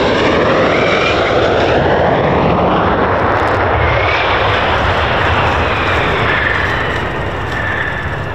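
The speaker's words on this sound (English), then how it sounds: "This F-15 had to make an emergency landing after an issue with its hydraulics" F-15 fighter jet with a hydraulic fault, landing in an emergency with its tailhook down to catch a runway arrestor cable, its engines roaring loud and steady throughout.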